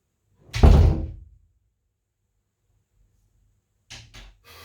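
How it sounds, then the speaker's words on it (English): A door bangs shut with one loud, close slam that rings out briefly, followed by quiet and then a few soft bumps and rattles near the end. "There's the door again."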